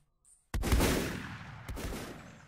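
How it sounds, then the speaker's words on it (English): A musket volley fired by the front rank of soldiers in a video game: one loud, near simultaneous crack around half a second in, then a long rolling decay, with a second smaller shot partway through. "Front rank! Fire!"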